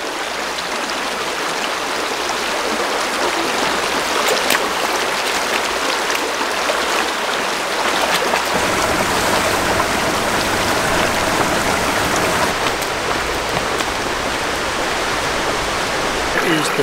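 A small river stream flows steadily in a backcountry wilderness, producing a continuous loud rushing, splashing wash of water that stays even throughout with no other sounds over it.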